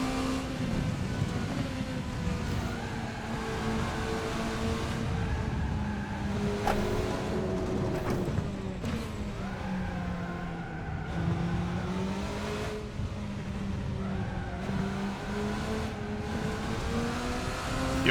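A race car engine roars around Interlagos in a racing video game, a steady, moderately loud drone that rises and falls in pitch as the car accelerates, shifts and brakes through corners, heard alone without talk.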